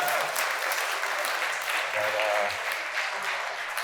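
An audience at an Indigenous foods symposium claps steadily, a dense wash of applause that holds at an even level for a few seconds.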